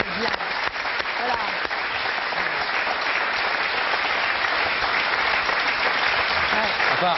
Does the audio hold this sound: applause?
yes